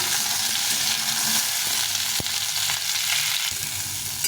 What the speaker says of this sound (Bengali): করলা আলুটাকে ভালো করে ভেজে নিতে হবে